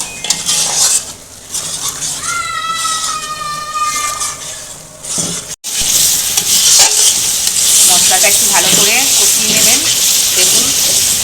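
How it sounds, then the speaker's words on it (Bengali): Ginger, garlic, onion and green chilli paste stir-fried in hot oil for a mutton and potato curry, with a loud steady sizzle and repeated scraping of a spatula against the pan, close by, with no talk. "মশলাটা একটু ভালো করে কষিয়ে নেব"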